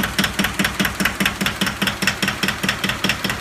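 An old 1982 Yanmar diesel tractor engine idles nearby with a steady, regular knocking chug, several beats per second, loud and even.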